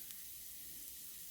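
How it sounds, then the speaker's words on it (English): Flour toasting dry in a pan for a tomato sauce roux gives a soft, steady sizzling hiss, faint and continuous with no voices. "I'm just going to toast the flour"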